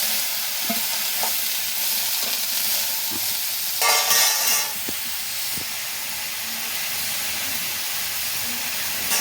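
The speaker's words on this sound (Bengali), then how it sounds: "রসটা এবার নাড়তে চাড়তে রসটা শুকনো করে নেবো" Shapla water lily stems cook in a pan over a rural wood-fired stove and are stirred to dry off the liquid. A steady close hiss and sizzle runs throughout, broken by scraping stirs and one louder burst of steam.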